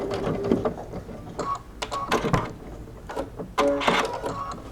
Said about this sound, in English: I'm just going to sew over it.